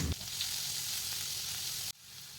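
Chopped onion drops into hot tempering oil for a vegetarian dish, setting off a loud, steady sizzle that holds for about two seconds and then cuts off abruptly into quieter, settling frying.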